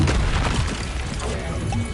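A Confringo fire spell blasting in Hogwarts Legacy, a dense booming explosion with crashing debris that roars loudly and continuously across the whole moment.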